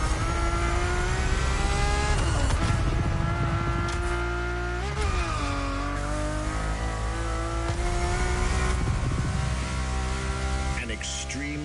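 Ferrari sports car from The Crew Motorfest, its engine revving loud and close from the cabin, pitch climbing and dropping through several gear changes across the run without a break.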